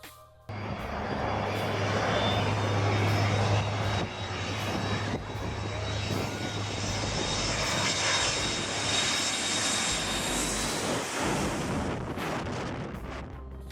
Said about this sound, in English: planes fly so close to the ground on Maho Beach